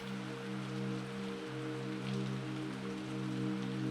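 Steady rain falls on a surface with an even, soft hiss, close and continuous, alone without any voices, on a rainy evening.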